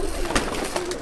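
A female Fulsari pigeon gives a brief, close, low cooing call that ends abruptly.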